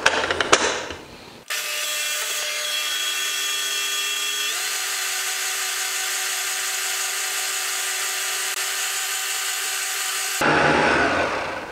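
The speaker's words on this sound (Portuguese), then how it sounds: "Liga a batedeira no mínimo e vai despejando em fio a calda" A stand mixer hums steadily on its lowest speed, whipping gelatin in the bowl while hot sugar syrup is poured in a thin stream; the even motor whine runs for about nine seconds, close and fairly loud, with no talking.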